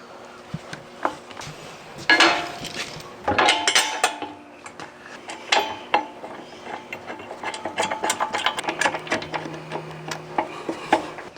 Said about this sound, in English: using a 16mm wrench for the back side of this bolt and a 17mm socket, I'm tightening up the Haas fair lead onto the fair lead plate